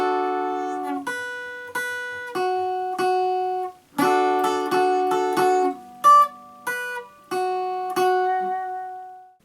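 A clean guitar riff played back note by note, a series of clear plucked tones and double stops in an uneven rhythm, each ringing and decaying, heard alone without talk.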